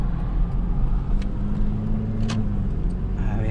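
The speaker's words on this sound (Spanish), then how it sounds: "Vamos a dejar que pase ese carro y vamos a continuar." A car passing along a residential street, heard as a close, loud engine and tire rumble swelling and fading over a few seconds, with faint clicks and small sounds in the background.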